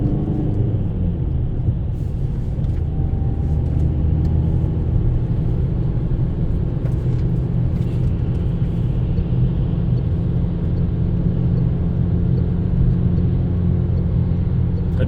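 Car engine drones steadily while a learner driver accelerates onto a small motorway entrance ramp, a continuous low rumble throughout with road noise and no clear speech.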